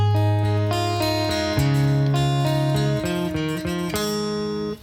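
Electric guitar plays a song's chorus, a steady run of clear picked notes and chord changes on the low strings, close and loud, with no talking.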